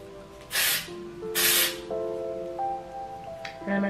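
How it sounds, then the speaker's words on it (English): Oribe texture spray hisses into hair in two short, close aerosol bursts, followed by a softer third puff near the end over a quiet background with faint sustained tones. "this is the Orbe texture spray"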